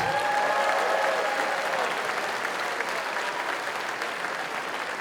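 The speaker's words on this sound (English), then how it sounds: "So let's give those referees a round of applause." An arena crowd at a FIRST Robotics competition opening ceremony applauds the referees, a broad, steady roar of clapping heard from a distance that fades slightly over its length.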